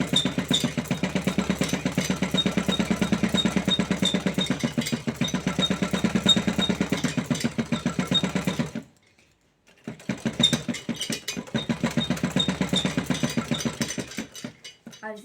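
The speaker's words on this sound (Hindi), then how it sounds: "बिल्कुल ज़रा सा कपड़ा लेते हुए हम एक सिलाई लगा लेंगे" A sewing machine runs a fast, steady rattling stitch along a blouse seam, stops briefly, then starts up again and keeps stitching, close and clear with no talk.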